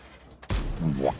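A single loud tank cannon shot in a tank video game featuring the TS-60 tank destroyer, a sharp blast with a rumbling tail and a rising mechanical whine after it.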